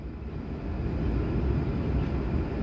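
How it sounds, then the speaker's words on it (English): An airplane passes overhead, heard as a steady low, broad rumbling roar that grows slightly and holds, fairly faint and distant with no talk. "there goes another plane"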